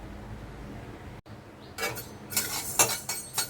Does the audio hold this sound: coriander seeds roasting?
yes